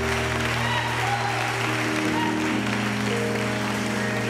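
Church congregation clapping hands in praise at a morning service, a dense, continuous round of applause with some voices mixed in and organ or keyboard tones sustained underneath.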